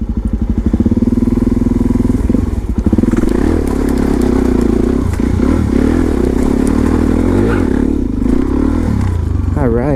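A supermoto motorcycle rides up a stair set, its engine chugging and revving loudly and close, with clattering, scraping and thudding impacts as the tires climb the steps.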